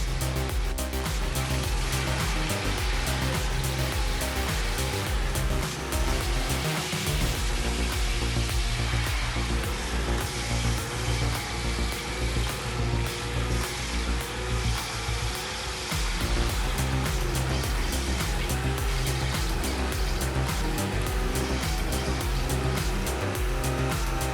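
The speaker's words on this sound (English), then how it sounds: "The Hurricane TRX is a powerful stump grinder monster." A Hurricane TRX stump grinder chews tree stumps into wood chips with a loud, continuous, heavy mechanical roar and gritty grinding, holding steady for over twenty seconds with brief dips in load.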